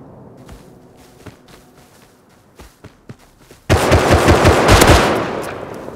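Gunfire in the video game Rust: scattered single shots and footsteps give way to a loud, sustained burst of rapid automatic fire near the end.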